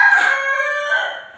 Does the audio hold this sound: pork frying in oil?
no